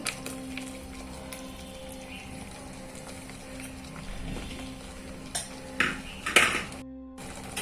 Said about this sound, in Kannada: ಹಾಗೆ ಅಲ್ಲಿ ತನಕ ನಾವು ಹೀಗೆ ಚೆನ್ನಾಗಿ ಬೆರೆಸ್ತಾ ಇರುವ.